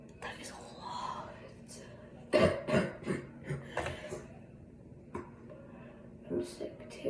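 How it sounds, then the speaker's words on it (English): A sick person gives several soft coughs and throat-clears amid quiet whispered talk in a close indoor room, the coughs short and scattered. "if you hear me coughing, then I'm sick"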